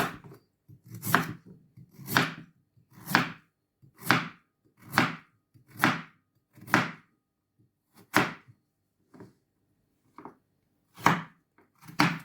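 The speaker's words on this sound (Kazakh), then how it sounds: "Енді сәбізді турап аламын." A knife chops carrots on a board in about ten sharp, evenly spaced strokes roughly one per second, close and distinct against near silence, with a few softer taps between.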